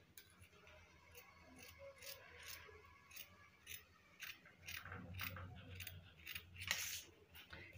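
Scissors cutting out fabric for a dress sleeve, quiet and close, with repeated snips and the crisp crunch of blades closing through cloth at an uneven pace.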